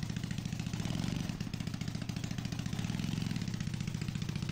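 Engine of a freshly repaired D'Kagra farm vehicle running steadily after starting, a loud, close, rhythmic clattering idle with a constant low throb throughout.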